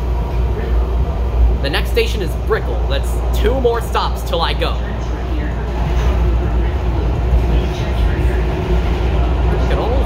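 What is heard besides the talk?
Miami Metrorail train interior riding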